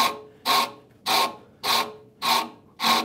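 A coarse wood rasp shaping a wooden saw handle, five even, rhythmic scraping strokes about half a second apart, close and crisp with quiet gaps between each pass.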